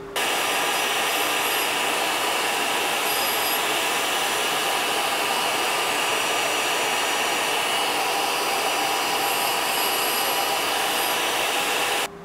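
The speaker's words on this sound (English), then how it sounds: "the vacuum's what's making all the noise" A loud, steady whine and roar of a vacuum cleaner used for dust collection on a tool and cutter grinder, running continuously, close by, with no talking.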